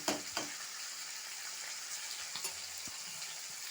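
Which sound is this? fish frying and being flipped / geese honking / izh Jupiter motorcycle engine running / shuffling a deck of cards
fish frying and being flipped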